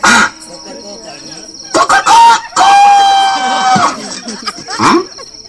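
A person imitates a rooster crowing, a loud strained vocal cry with a drawn-out sustained middle, surrounded by short bursts of voice and noise in a comic film scene.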